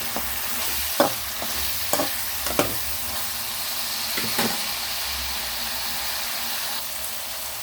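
Brinjal pieces fry in a pan for a brinjal and tomato curry, a continuous sizzle broken by several sharp scrapes and knocks of a stirring spoon. Sounds are close and clear, with no talking.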